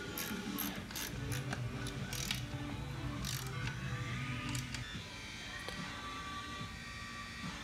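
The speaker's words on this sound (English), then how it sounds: "Drain plug goes back in. Tighten snugly." A motorcycle's oil drain plug being tightened back in: a close, continuous run of rapid mechanical ratchet clicks for several seconds, easing into quieter clicking and handling near the end.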